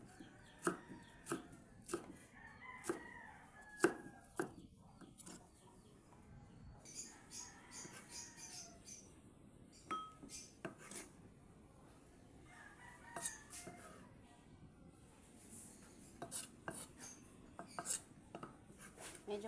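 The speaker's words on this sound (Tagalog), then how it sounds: "Medyo madami po yung kamatis na hiniwa ko." A knife slices tomatoes in a rapid series of sharp, crisp cuts with short pauses, fairly close and quiet, while a rooster crows faintly in the background.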